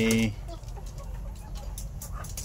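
Chickens clucking nearby on a farm, pullets about 18 weeks old that have not yet started laying, with a short burst of loud clucks at the start giving way to quieter scattered calls over a steady low background rumble.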